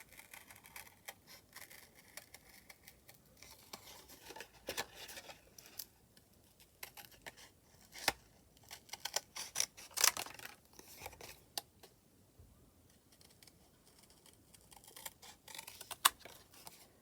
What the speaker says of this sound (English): I'm going to fussy cut that.